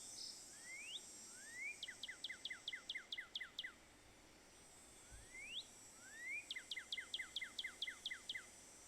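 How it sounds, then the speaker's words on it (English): A Northern cardinal call from Nancy Drew: Ghost Dogs of Moon Lake, a faint, clear song of rising whistled slurs followed by quick runs of sharp repeated chirps, given twice with a pause between. "Northern cardinal."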